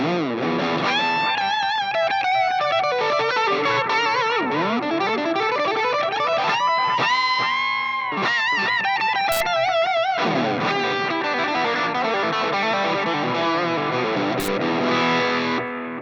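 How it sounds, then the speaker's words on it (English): Distorted electric guitar lead through a TWA Fly Boy echo delay pedal, with trailing repeats smearing sustained bends and fast runs; loud and continuous, played alone with no talk. "Put a little delay on there."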